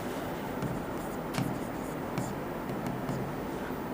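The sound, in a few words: writing by hand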